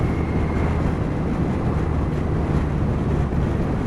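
Steady, loud wind roar buffets a Kawasaki GTR1400 touring motorcycle with a fairing and a slightly larger screen, ridden in winter cold. It is a continuous broadband rush with no talk.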